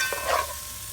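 Garlic and pepper fry and get stirred in a pot for a Jamaican ital vegan stew: one brief, close scrape-and-sizzle burst over a low, steady frying hiss.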